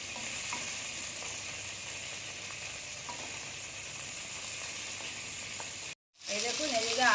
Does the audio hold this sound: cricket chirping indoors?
no